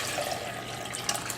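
Filtered water runs and splashes steadily for a moment, a soft, close pouring sound with no talking over it.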